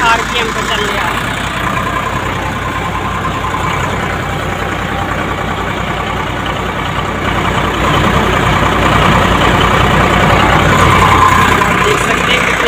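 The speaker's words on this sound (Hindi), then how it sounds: "तो ये देखिए कितनी आरपीएम पे चल रही है।" A tractor-driven tokri model thresher runs with a loud, steady mechanical drone and rhythmic engine rumble, close by, while people talk over it.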